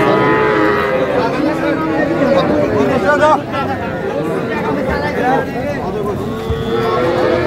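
Cattle, young bulls and heifer calves, moo loudly and repeatedly close by at a livestock market in Rangpur, their calls overlapping with a busy crowd chattering all around.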